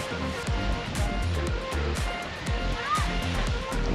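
Steady wash of calm sea waves rolling in gently at a beach resort, with soft surf swells rising and falling, while a person talks intermittently over the water.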